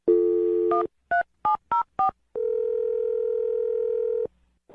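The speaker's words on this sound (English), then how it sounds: "I'm going to dial her phone number right now" A telephone dial tone sounds, then four short keypad beeps, then a long steady tone for about two seconds, close and clear with no talk.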